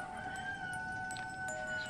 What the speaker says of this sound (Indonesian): Ayam itu ayam ya.